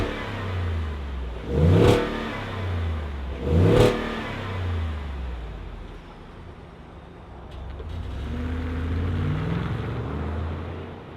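Ford USSV Hamba, a rare V8 build on a 2019 Ford F-150 chassis: a deep engine rumbles at idle and is revved hard twice in quick, loud bursts, then settles back into a throaty burble.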